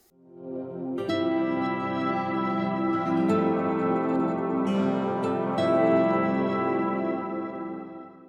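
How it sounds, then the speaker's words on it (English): PlayStation 4 sound logo: a sustained, shimmering synthesized chord with soft bright accents layered on top, swelling gently and holding steady for several seconds before fading out, with no voices. "Another sound logo is the PlayStation 4 sound logo."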